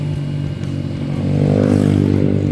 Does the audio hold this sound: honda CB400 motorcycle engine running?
yes